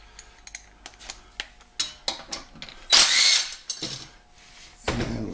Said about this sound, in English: we need to put the 8mm wrench on there